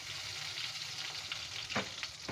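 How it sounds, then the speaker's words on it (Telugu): Cumin, mustard seeds and urad dal hit hot oil for tempering, giving a faint, steady sizzle with a few sharp crackles and pops close by. "నూనె పోసుకొని అది వేడెక్కినాక జీలకర్ర, ఆవాలు, మినప్పప్పు,"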